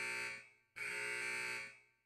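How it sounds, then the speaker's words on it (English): Ward alarm signal summoning a doctor in a video game, loud electronic buzzing tone sounding in repeated long pulses with brief gaps between, no talk. "Signal to summon the doctor sounded in the ward."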